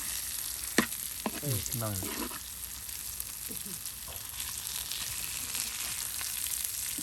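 Fish fries crisply in a pan, a steady loud sizzle throughout with a few stirring scrapes, while a voice speaks briefly near the start.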